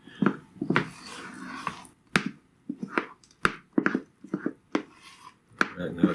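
A spatula folds a mixture into whipped cream in a bowl for rum banana pudding, giving close, irregular knocks and clicks against the bowl between soft, wet swishing strokes, with no talking.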